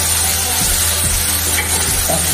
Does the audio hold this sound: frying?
yes